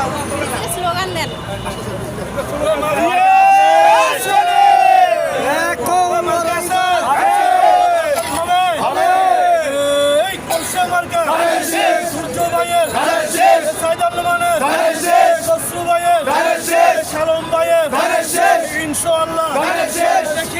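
A large crowd chants together at a political rally for a parliamentary candidate in Chattogram, voices rising and falling in repeated waves over a steady crowd roar for about twenty seconds.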